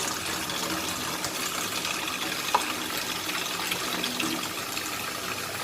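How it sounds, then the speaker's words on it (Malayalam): Water running from a tap into a bucket in a kitchen, a steady hissing gush of liquid filling the container throughout, close and continuous with no talking. "നമ്മളൊരു ബക്കറ്റിൽ കുറച്ച് വെള്ളമെടുത്ത്"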